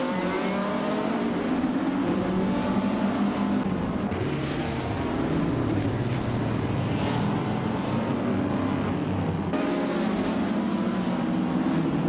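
Classic IndyCars, including a 1960s Scarab Indy and a 1957 Curtis Craft 500B, race in a video game, their engines droning loudly and continuously with rising and falling pitch as cars pass.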